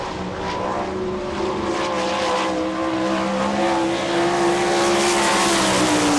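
World of Outlaws sprint car on a qualifying lap at Rossburg, Ohio, its loud high-revving engine snarling steadily with rising and falling pitch as it circles the dirt track, growing louder toward the end.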